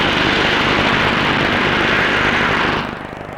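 A 1950s vertical take-off jet aircraft with lifting jets at Farnborough roars loudly and continuously as a broad, close jet rush, easing off slightly near the end.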